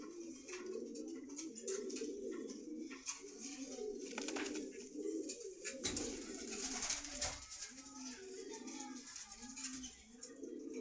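A pair of Kashmiri racer pigeons coo repeatedly in soft, throaty, rolling calls at a market in Meradia Bazar, Rampura, Dhaka, with background market noise around them.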